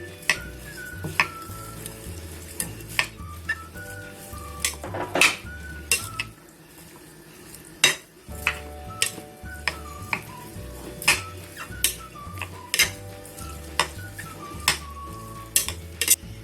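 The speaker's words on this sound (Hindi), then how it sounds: "ये भी डाल देते हैं और इसे मिक्स कर लेते हैं अच्छी तरह" Spoon stirring and mixing chana chaat with chaat masala and lemon in a bowl: repeated close clinks and scrapes of metal against the dish at an irregular rhythm over quiet background, with no talk.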